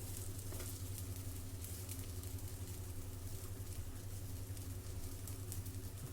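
Food with roasted coconut frying in a pan, a faint, steady sizzle continuing without pause over a low hum.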